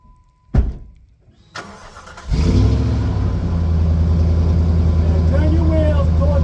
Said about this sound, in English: Start your truck up, Robin